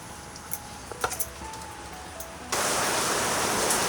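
Heavy monsoon rain in the Konkan countryside, beginning with a few faint drips and then breaking suddenly into a loud, steady broadband downpour that holds until the end.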